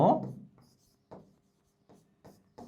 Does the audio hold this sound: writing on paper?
yes